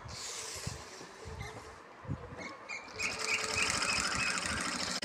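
A sewing machine stitching a korai grass bag, its rapid mechanical whir coming in short runs that stop and restart, then a longer steady burst, fairly quiet and close.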